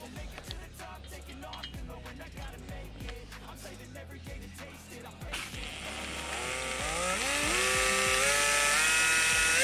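A power sander fitted with a new, finer-grit abrasive starts with scattered scraping strokes, then its motor winds up into a loud, rising whine that holds steady and close to the end.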